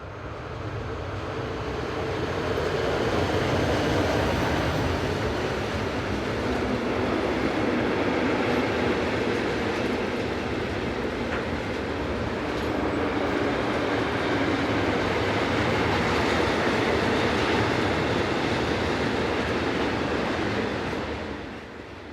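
A class 620042 train passes through Owensingen, a steady broad rumble of wheels and running gear that builds, holds fairly loud for the length of the pass with slight swells, then eases away at the end.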